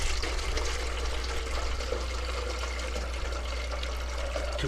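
Water pours steadily from a watering can onto light, spongy biochar, a constant close splashing stream lasting the whole moment without pause.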